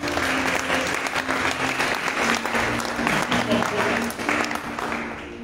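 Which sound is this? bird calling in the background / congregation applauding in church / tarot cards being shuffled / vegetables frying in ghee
congregation applauding in church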